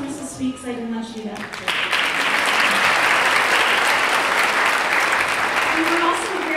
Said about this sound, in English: a round of applause for Mrs. Sweet